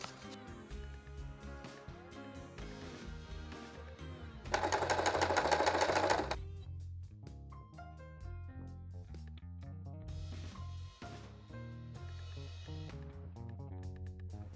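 A sewing machine stitches gauze fabric end to end in a brief, loud, rapid whirring burst of about two seconds, set among quieter mechanical clicks and tones.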